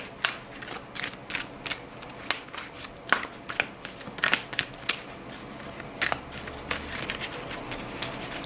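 Large tarot deck is shuffled by hand in close, quiet, irregular bursts of papery riffles and taps, with small flicks of the cards between them and no talking.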